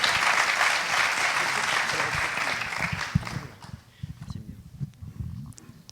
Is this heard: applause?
yes